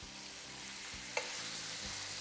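Tenderloins sizzle steadily in a hot pan, a close, even frying hiss with one small pop partway through.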